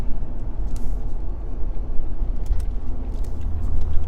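A Jeep Wrangler drives on the road after a wheel alignment, heard from inside as a steady low engine and tyre rumble with faint road noise throughout.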